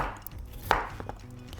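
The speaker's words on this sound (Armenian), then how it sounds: "Կարտոֆիլները կտրատում ենք" Potatoes chopped with a knife on a cutting board while cooking a chicken and potato dish: one sharp, close knock stands out, followed by a few fainter taps in a quiet kitchen.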